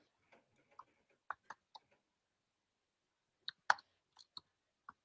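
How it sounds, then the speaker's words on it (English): Keyboard typing on a live convention-night stream: sparse, irregular clicks in two short bursts separated by a quiet gap, close and fairly faint, with no talk over them. "I'm typing this to Steve."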